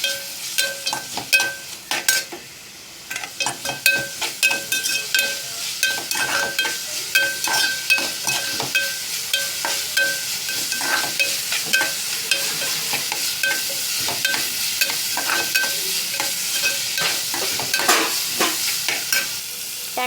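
Tomato and onion fry in a pan with asafoetida for a cabbage bhaji, stirred steadily throughout: a constant close sizzle broken by repeated scraping and clinking of the spoon against the pan.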